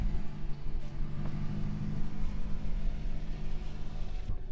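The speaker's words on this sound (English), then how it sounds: "Your truck is very noisy." A loud truck engine drones steadily on a rough overland trail in southern Utah, a continuous low rumble heard from inside the vehicle without talk.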